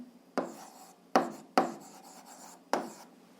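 Pen strokes scratching on paper while a math solution is written out by hand, four distinct rasping bursts spaced irregularly, close and fairly quiet with no talking.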